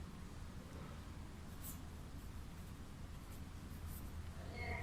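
Chalk or marker writing on a board during a physics lecture, soft intermittent scratchy strokes over a steady room hum, with no talking.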